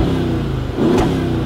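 Mercedes-AMG 63 in Sport Plus mode, a steady loud engine and exhaust drone close by with a brief dip and then a rising rev and a short crackle from the exhaust.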